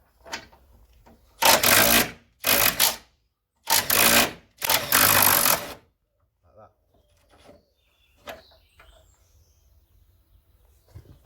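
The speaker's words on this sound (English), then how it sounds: "These impact guns, rather than messing about with a ratchet" Impact gun spinning bolts off a Land Rover Defender 110 axle, four loud close bursts of rattling whirr in quick succession, then quieter workshop clatter and faint sounds.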